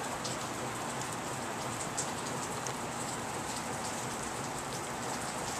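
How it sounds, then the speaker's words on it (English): Steady rain falls on an old tree in the woods, a dense even hiss of drops on leaves and bark, close and constant with no voices. "This is what it looks like when it's getting a good rain."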